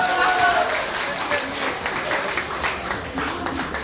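An audience applauds a gugak (traditional Korean music) group after their Liberation Day 74th anniversary performance at Seoul Citizens Hall: loud, continuous crowd clapping that fills the space, with voices mixed in.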